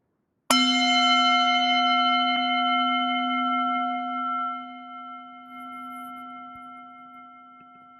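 A single bell struck once at a chalice lighting during a church service, ringing out clearly with a long, steady decay that lingers for several seconds.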